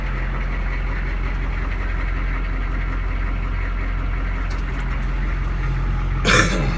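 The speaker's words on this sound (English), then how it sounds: "It's a nice sounding diesel, very quiet, smooth running." A diesel engine of an M1010 army truck ambulance idling after a cold start on glow plugs, a steady, smooth low rumble held close, with a brief rattle near the end.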